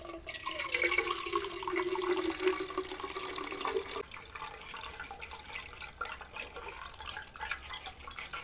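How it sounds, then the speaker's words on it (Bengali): Grape juice mixture with cumin and lemon juice being strained into a pot, a steady close trickle and pour of liquid for about four seconds, then quieter dripping and faint handling noises. "এখন মিশ্রণটাকে একটা পাত্রে ছেঁকে নেব।"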